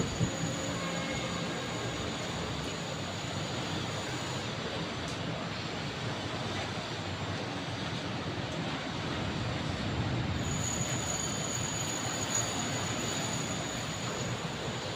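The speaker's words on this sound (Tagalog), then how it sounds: "Grabe, lakas ng ulan talaga." A steady, dense roar of heavy typhoon rain pouring down without letup, loud and continuous throughout, with gusty wind mixed in.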